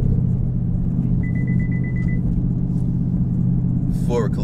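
A Chevrolet Camaro ZL1 engine throbs on throttle, a loud steady low rumble heard from inside the car, with a short beep partway through and a brief voice at the end.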